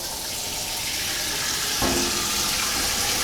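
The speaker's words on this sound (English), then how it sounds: "Just run the tap, get that going on hot." Hot water runs steadily from a household tap into a sink, a continuous close splashing hiss that brightens as the flow changes partway through; no voices.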